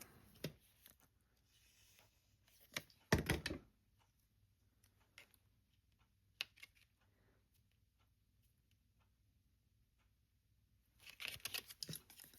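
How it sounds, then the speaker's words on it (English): Scissors cutting a small red paper piece for a craft project, a few quiet, sparse snips and rustles in a hushed room, with a brief busier burst of cutting at the end. "This little red piece, cut it just a little bit bigger."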